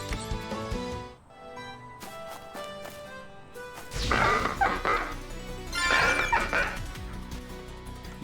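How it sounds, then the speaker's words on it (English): A dog barking and yipping in the video game lumenTale, a few short barks heard over game music. "What the dog doing?"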